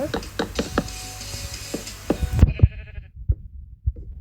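Blocky Minecraft sheep bleat several times in short, spaced calls alongside sharp knocking and block-breaking hits, close and fairly loud, with the game's sounds cutting out partway through.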